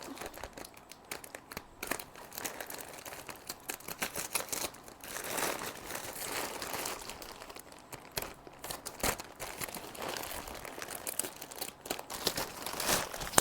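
A knife cutting and tearing open the packaging of a gift parcel, with soft, irregular crinkling, scraping and ripping noises, close and fairly quiet, no talk.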